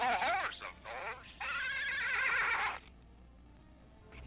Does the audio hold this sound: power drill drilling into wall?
no